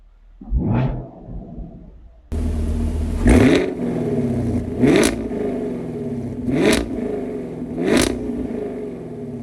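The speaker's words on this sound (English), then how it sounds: "Give you guys a few revs while we're in sport mode." A 2021 Chevrolet Camaro SS convertible engine revs sharply four times in a row in sport mode, each blip rising and falling back to a steady low idle rumble, loud and close.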